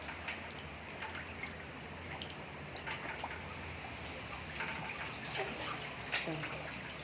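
Rain and high floodwater outside a house at midnight, a steady faint wash of falling water with scattered drips and splashes, continuous throughout with some quiet talk in the background.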